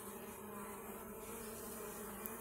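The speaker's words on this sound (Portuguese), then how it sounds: "Muita abelha." Mandaçaia stingless bees (Melipona quadrifasciata) buzz steadily at a freshly divided hive, a continuous close droning hum with no talk.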